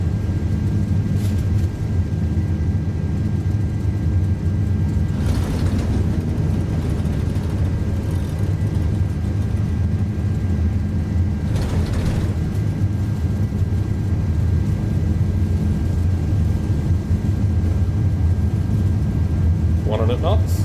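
Airbus A330 jet engines at takeoff thrust on a runway roll, a steady loud low roar and hum filling the cabin throughout, with brief rushes of noise and a faint voice near the end.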